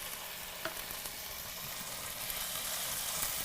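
Minced ginger and garlic hitting very hot oil in a pan for chicken teriyaki, a faint, even hiss of sizzling with a couple of small pops, steady throughout and without speech.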